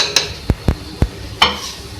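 Spoon stirring spices, chilli, cumin, green chillies and onion-garlic-ginger paste into arhar dal in a pot: five short, sharp clinks and scrapes against the pot, close and spaced irregularly, with no talk.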